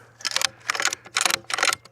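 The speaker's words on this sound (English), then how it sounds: "And then I think we gotta reload." A Remington rifle's stiff action is worked by hand while reloading, giving four bursts of sharp mechanical clicks and metallic rattles in quick succession over a low steady hum.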